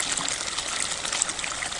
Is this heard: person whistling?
no